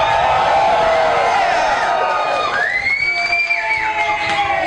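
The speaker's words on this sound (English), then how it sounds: "But now you're allowed to cheer as much as you want!" A live radio show audience in Chicago cheers loudly and steadily, a dense crowd roar with whoops and shouts rising over it, close and continuous throughout.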